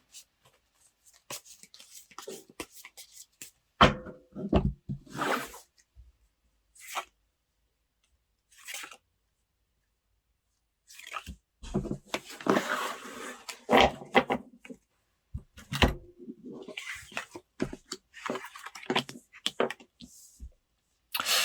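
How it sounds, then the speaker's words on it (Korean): Tarot cards are shuffled, flipped and laid down in bursts of close crisp rustling, snapping and tapping, separated by quiet gaps. "카드 한번 뽑아볼게요"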